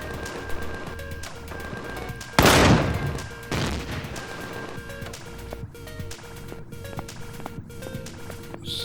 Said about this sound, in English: the short little bursts that suggest that the turrets are at least trying to not waste all of their ammunition